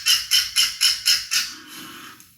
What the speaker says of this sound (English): Now listen to this condor.